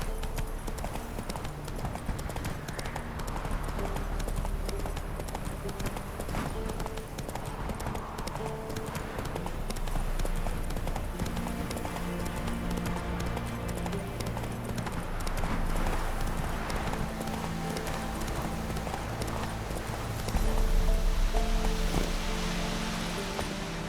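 Horse hooves gallop in a steady, rhythmic clip-clop in The Witcher 3, with rustling ambience and a faint musical score underneath.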